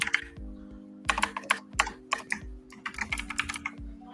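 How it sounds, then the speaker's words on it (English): Loud, clicky mechanical computer keyboard typed on in irregular bursts of sharp keystrokes, close to the mic, with a steady low hum underneath. "Maybe I should turn my mic off when I'm typing here."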